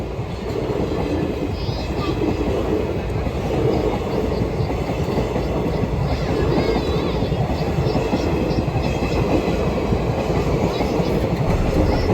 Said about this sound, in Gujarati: હવે થોડી જ વારમાં ટ્રેન પણ આવી ગઈ છે, ભાવનગર સુરેન્દ્રનગર